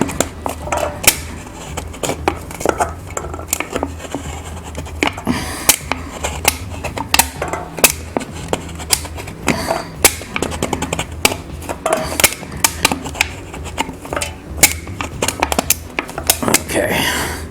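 Metal drink can being cut open by hand to build an alcohol stove, giving a run of sharp, irregular scraping and crunching clicks close up, with a person talking intermittently over the cutting.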